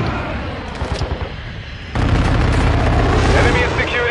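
Heavy gunfire in a video game battle, with scattered shots and bursts at first, then a dense, loud wall of continuous firing and booms from about two seconds on, with voices mixed underneath.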